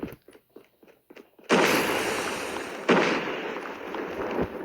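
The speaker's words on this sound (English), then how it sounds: "Gonna put a grenade here because why not?" A grenade blows up in a video game shooter: after a few faint clicks, a sudden loud blast erupts and rumbles on, followed moments later by a second heavy burst that fades slowly.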